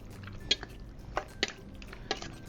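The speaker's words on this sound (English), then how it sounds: "Now we're gonna go ahead and mix all that together." Garlic salt, turmeric and hot sauce are stirred together in a bowl, giving a few quiet, separate wet clinks and squishes at irregular intervals.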